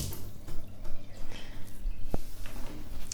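Water runs and drips in a kitchen as a lemon is rinsed under the tap, a close, steady splashing trickle with one sharper drip partway through and no talking.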